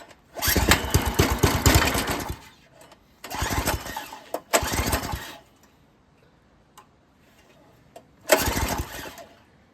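A freshly rebuilt Predator 212 small engine on half choke fires in loud, close bursts of rapid chugging that sputter out. It catches again several times with short quiet gaps between the runs.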